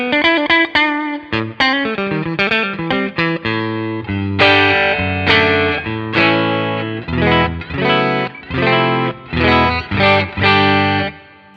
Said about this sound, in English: Classic clean strat tones.